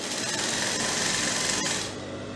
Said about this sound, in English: So you see the way I'm just sewing.